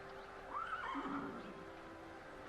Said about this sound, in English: So, is this the horse?